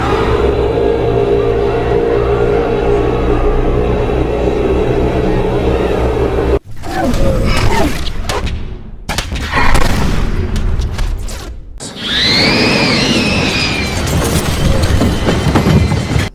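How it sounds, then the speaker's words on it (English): From the 2005 War of the Worlds film: loud booming tripod howls and deep rumbling roars that cut in and out in several bursts, ending with a rising, wavering high wail. "The sound design is also just incredible, from the booming howls from the tripods"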